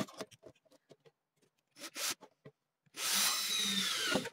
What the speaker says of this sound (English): This is where we're going to be drilling.